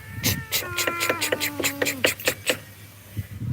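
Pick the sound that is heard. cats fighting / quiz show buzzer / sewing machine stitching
cats fighting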